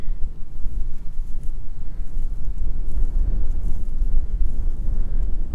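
Gusty wind buffets the microphone outdoors in Georgia in a continuous low rumble, loud and uneven, with no voices.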